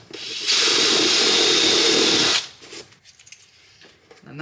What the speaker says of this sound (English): Yes, it's a cardboard box. Yes, I'm drilling it.